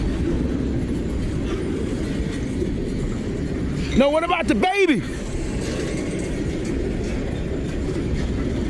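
A train rolls past on the rails with a steady low rumble and a brief burst of squealing wheels in the middle, while a person talks over the noise.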